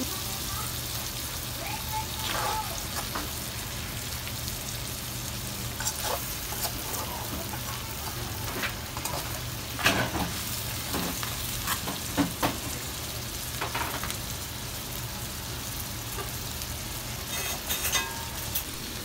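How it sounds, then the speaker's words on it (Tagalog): Seafood, including lobster, shrimp and squid still in their shells, is stirred in chilli garlic sauce in a hot pan. A steady close sizzle runs throughout, broken by scraping, clattering stirs, with no clear talking. "haluin ko pa ng haluin hanggang sa kulang na lang ay madurog siya"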